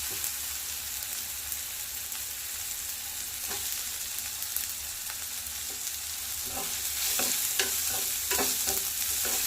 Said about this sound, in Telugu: క్యారెట్ కూడా బాగా ఫ్రై చేసి